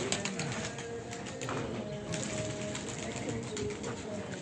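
Racing pigeons back at the loft after a race give low coos and faint rustling wing sounds, steady and fairly close, with no voices.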